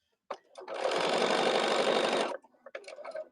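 A sewing machine runs steadily for about two seconds while top stitching a scrap-fabric pin cushion, its rapid needle chatter starting and stopping abruptly, with a few soft handling clicks after.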